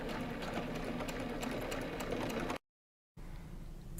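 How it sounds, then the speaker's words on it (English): A sewing machine running a back stitch through fabric, a steady close mechanical whir that cuts out briefly and then resumes. "You're also going to want to do the back stitch a few times just to hold that stitch in place so it doesn't unravel."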